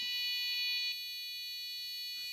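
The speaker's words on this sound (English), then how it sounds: "the buzzer probably doesn't like being driven like this" A buzzer with a built-in tone generator driven at maximum volume, a shrill piercing continuous tone that drops slightly in level partway through, close and alone.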